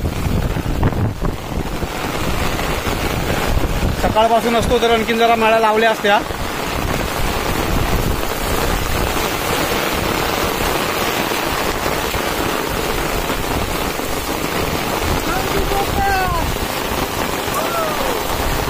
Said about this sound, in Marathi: जबरदस्त पाऊस आलाय, जबरदस्त